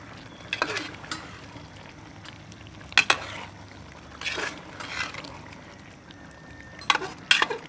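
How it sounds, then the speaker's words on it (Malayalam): A pot of karela gosht, bitter gourd mutton curry, being opened and stirred: metallic lid and utensil clanks at intervals over a soft, steady simmering sizzle. "നമുക്കൊന്ന് തുറന്നു നോക്കി ഇളക്കി നോക്കട്ടോ"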